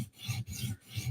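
A knife edge being profiled on a sharpener, removing material at the top of the bevel, heard as close rhythmic rasping strokes, three quick passes back and forth.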